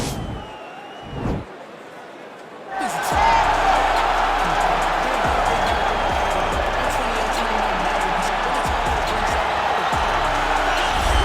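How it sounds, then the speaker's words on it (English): A crowd roars and cheers in a UFC 4 arena as Nate Diaz begins his walkout, the noise swelling suddenly after a few quiet seconds and holding loud and steady, with a faint thud early on. "you hear the pop from the crowd, DC, as Nate Diaz gets set to make this walk"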